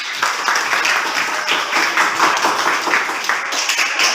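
Listeners in a classroom group-presentation session give a round of applause, loud dense clapping from many hands close by, continuing steadily for several seconds with no talk.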